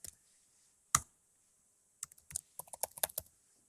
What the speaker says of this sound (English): here we can type whatever we want